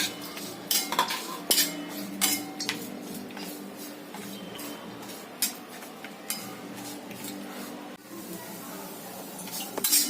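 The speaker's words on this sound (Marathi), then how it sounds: "आता सुकं खोबरं पण थोडंसं असं लालसर भाजून घ्यायचंय।" A metal spoon scrapes and clinks against a pan as dry coconut is roasted until reddish, with irregular sharp taps over a low steady background.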